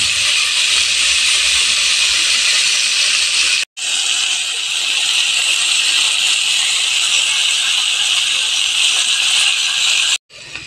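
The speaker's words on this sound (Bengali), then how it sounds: "তো আমার ফুলকপিটা ভাজা হচ্ছে।" Cauliflower fries in oil with turmeric powder, giving a loud, steady broadband sizzle that runs almost the whole time, broken by two brief silent cuts.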